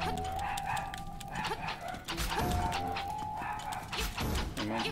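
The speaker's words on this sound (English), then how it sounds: "And my dogs are going crazy." Dogs bark excitedly in a room, sharp yaps and barks coming in bursts over electronic video game music and sound effects.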